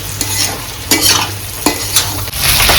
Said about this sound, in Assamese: তো ইয়াক ভাজিয়ে থাকিম ধুনীয়াকৈ